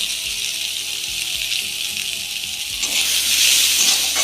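Tangra fish curry with chopped onion and raw tomato fries in a little oil, giving a steady close hiss with faint low knocks of stirring; the sizzle swells louder and brighter near the end.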